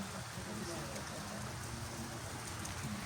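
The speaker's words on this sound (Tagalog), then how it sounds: "Umuulan." Steady rain patters and hisses continuously across a surface at Forest Lake, with a low rumble beneath and no clear voices.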